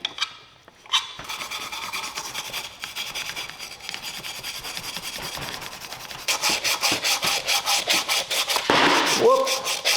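Scrubbing and rasping at a corroded housing on a Johnson outboard lower unit, a steady close scraping that turns into a quicker, louder rhythmic back-and-forth brushing toward the end.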